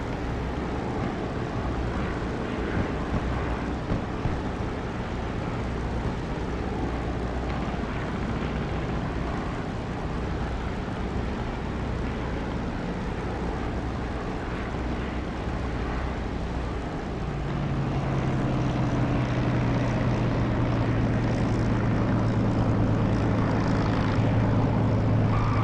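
A fixed-wing aircraft on short final approach from the west in the DCS flight simulator, a steady engine drone throughout that grows louder and adds a rising tonal hum toward the end.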